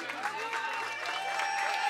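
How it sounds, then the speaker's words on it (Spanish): Steady applause from guests at a quinceañera celebration, moderately distant and continuous, with some crowd noise mixed in. "Un aplauso para él."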